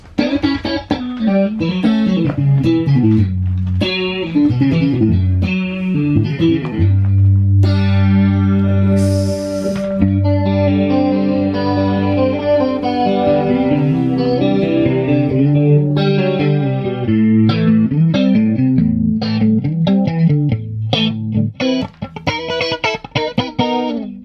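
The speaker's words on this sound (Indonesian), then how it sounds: "Ini bunyi chorus ya, Jo." Electric guitar with a shimmering chorus effect, picking chords and melodic lines with a wide, wavering tone, played alone and fairly loud.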